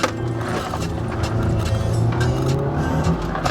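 A Mazda 3 with a 1.6 engine pulling away, its engine note rising steadily and loud from inside the car, with a sustained rising drone and some road and tire noise.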